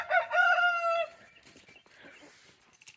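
A rooster on a homestead crows loudly and close for about a second, then softer clucking and rustling from the chickens trail off in the background.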